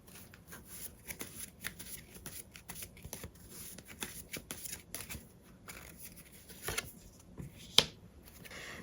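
Tarot cards are shuffled and handled close to the microphone, a steady soft riffling and flicking of card stock with occasional sharper snaps, quiet and without speech.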